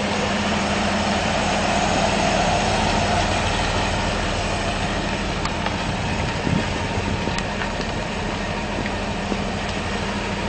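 Engine of a 1978 Toyota FJ40 under restoration droning steadily as the truck drives around nearby, a continuous, fairly loud rumble with no talk.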